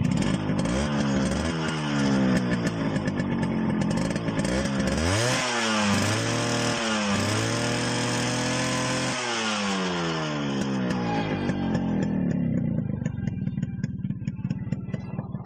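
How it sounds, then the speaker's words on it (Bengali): A Yamaha RX 100 motorcycle engine runs close by with a raspy two-stroke idle, rises through several sharp revs in the middle, then settles back to a rough, steady idle. "আমি এবার বাইকটি আপনাদেরকে সাউন্ডটা শোনায় দেখাবো যে সাউন্ড কেমন আছে"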